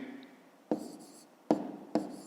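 A pen writes numbers by hand on paper, three short scratchy strokes close up, separated by brief pauses.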